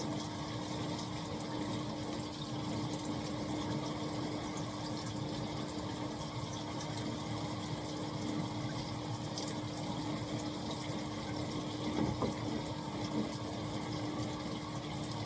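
A shower runs steadily and continuously, a dense hiss of spraying water with a faint tonal hum beneath it and no voices.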